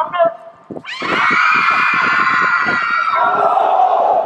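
A large crowd at a school event lets out a loud, sustained scream right after a spoken countdown, holding the shriek for several seconds before it fades.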